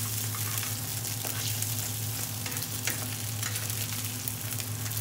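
Sea bass fillets fry skin side down in a pan with a steady, dense sizzle and crackle, close and even throughout, a low hum underneath and no voices.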